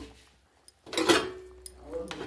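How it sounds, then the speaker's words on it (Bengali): Pieces of fried katla fish are dropped into a pot of simmering kohlrabi and potato with water, giving a short clatter and splash of a few seconds, close and moderately loud, with quiet surroundings before and after. "ভাজা মাছগুলো এখানে দিয়ে দিলাম।"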